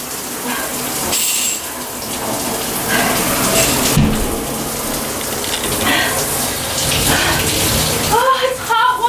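Hot water gushing from a tap after a Carolina Reaper hot sauce prank, a steady broadband rush filling the whole stretch, with excited voices talking and exclaiming over it.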